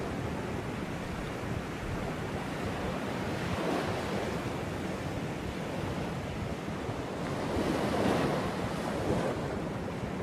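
Ocean surf rolls in steadily alongside a breeze, a continuous broadband wash of breaking waves with wind buffeting the microphone, swelling slightly louder toward the end with no voices.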